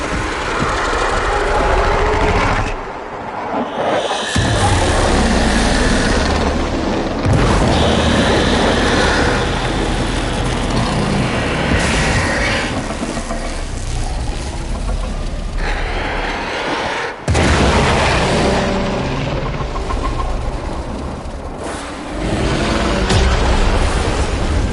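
A loud, sustained rumbling blast in the Warframe video game, a dense wash of roaring debris and crackle running for about twenty-five seconds with brief dips, mostly without talk.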